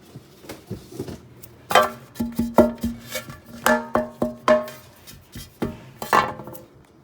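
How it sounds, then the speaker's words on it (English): Greasing a baking pan for soft bread: a run of light scraping, rubbing and clinking metallic taps, irregular and close, with several sharper clacks in the middle, no talking. "I'm greasing my baking pan right now."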